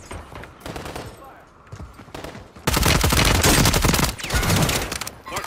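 Pistol gunfire in a video game: sharp, rapid shots crack in quick bursts, growing louder and denser midway, with a voice briefly heard between the volleys.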